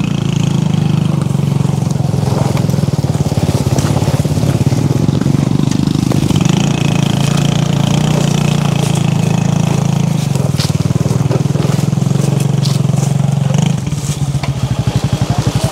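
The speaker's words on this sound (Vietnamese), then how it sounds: "May mắn là chỗ này mình vẫn đi xe máy được." A motorbike engine runs steadily close by on a steep mountain road, a continuous loud putter with some clatter and scraping, carrying on throughout with only a slight dip near the end.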